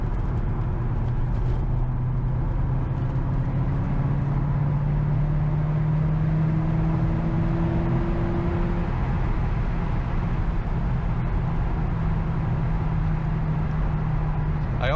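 A 2004 Corvette with a six-speed manual is driven spiritedly on dry rural roads, its engine a low, moderate drone that climbs slowly in pitch, under steady road and wind noise.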